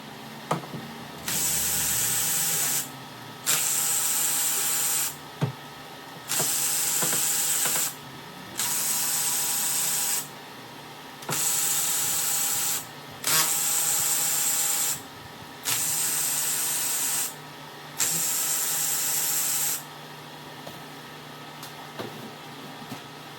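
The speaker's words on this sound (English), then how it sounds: "We're going to use an E8 Torx to just take off these 8 screws right here" An E8 Torx socket on a ratchet or power tool loosens the valve cover screws on a Sea-Doo engine, heard as eight regular bursts of loud hissing whirring, each about two seconds long with short pauses between, close and without talk.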